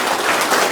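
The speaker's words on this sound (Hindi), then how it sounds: "एक बार उनके लिए ताली बजाइए।" A brief, dense wash of audience clapping fills the room, loud and continuous for under a second.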